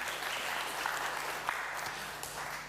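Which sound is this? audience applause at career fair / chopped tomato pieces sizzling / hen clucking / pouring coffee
audience applause at career fair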